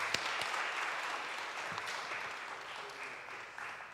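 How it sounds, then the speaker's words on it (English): An audience applauding at a book launch, with many hands clapping in a dense, steady wash of applause that fades slightly toward the end. "join me in applauding the editors of the works and also the authors."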